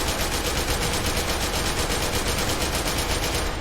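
An AK rifle in the shooter game SCP: Secret Laboratory fires a sustained, rapid automatic burst, loud and dense throughout, without speech.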